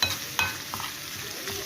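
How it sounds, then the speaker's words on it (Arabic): Garlic and dried coriander frying in hot ghee for a Molokhia dish, a close steady sizzle with a couple of sharp utensil clinks against the pan. "شوفوا بقى احلى طشه النهارده"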